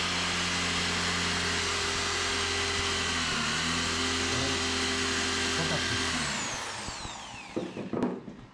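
A power drill fitted with Bosch bits fails to bore through, giving a steady, loud motor whine for several seconds before winding down, followed by clattering handling noises and nearby voices.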